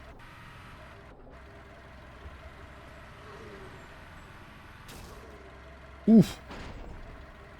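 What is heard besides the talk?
vehicle in the video game SurrounDead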